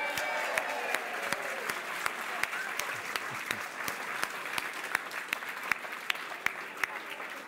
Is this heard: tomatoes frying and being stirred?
no